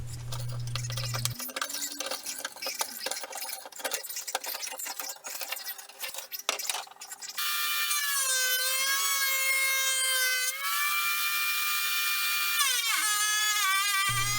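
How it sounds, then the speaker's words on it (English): A planer runs scrap scaffold board, first a rough chattering cut, then a loud sustained whine for the rest, close and alone with no talk. "so I ran them through the planer."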